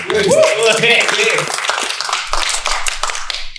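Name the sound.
clapping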